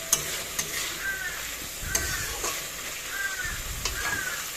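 Vegetables sautéing in a pan, a steady close hiss of sizzling with occasional light clicks of stirring, no talking.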